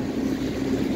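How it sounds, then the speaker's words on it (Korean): A jet boat speeds across open water on the Saint Lawrence River, its motor a steady, loud low drone with a churning wash beneath. "모터보트를 타고 힘차게 질주하는 풍경이 정말 멋집니다"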